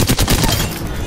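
Heavy automatic gunfire in Apex Legends, a loud dense burst of rapid shots at the start that thins into a sustained rattle with echoing tails.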